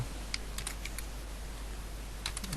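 Keys on a computer keyboard click in short clusters as Java code is typed in NetBeans, with a few taps at the start and a quick flurry at the end over a low steady hum.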